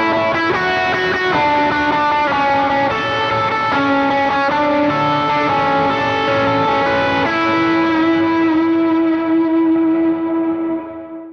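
Electric guitar through a heavy-gain Kilt stage with a boost, into a Strymon Iridium, rings out in sustained, heavily distorted chords and notes, loud and saturated, holding steady with no voices before fading at the end.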